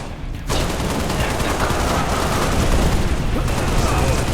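Enemy gunfire in the video game Halo Reach: sustained, dense automatic weapon fire and bursts roar continuously at high level, with battle noise and faint voices mixed in.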